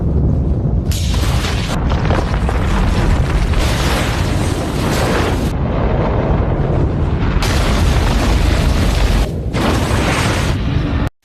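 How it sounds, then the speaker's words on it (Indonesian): An explosion sets off a snow avalanche on a mountain slope in the film xXx (2002), a sustained, loud, roaring rumble that briefly thins out a few times. "Gag meledakkan salju di atasnya, sedangkan ia terus meluncur ke bawah"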